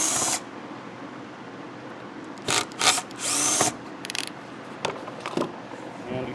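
Power drill backing screws out of a Yard Man mower fuel tank, several short whirring bursts close up, separated by quieter handling noise.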